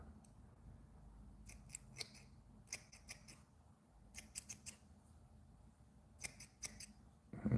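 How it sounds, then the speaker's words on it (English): Scissors snip crinkled pink fly-tying fibers into short sections for bass bugs, with a series of crisp, close cuts coming in quick clusters and short pauses between them, and no talking. "Let's chop this a bit. Cut it in sections."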